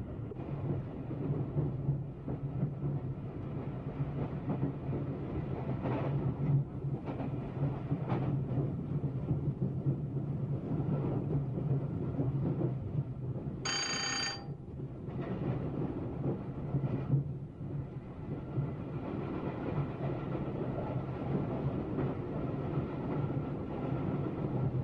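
A British Rail train runs steadily under power, a continuous low rumble and roar with faint rail noise, interrupted briefly by a short high-pitched squeal or whistle.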